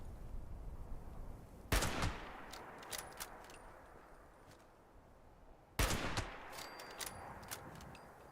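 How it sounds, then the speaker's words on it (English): A hunting rifle in Fallout 76 fires two sharp, loud shots several seconds apart, each cracking hard and trailing a long echoing decay over quiet ambient background. "All right, we haven't taken out our hunting rifle in a while."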